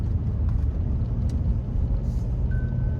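A 2003 Lexus ES300, front-wheel drive on large tires, climbs an uphill turn, heard from inside as a steady low engine and road rumble with no talk.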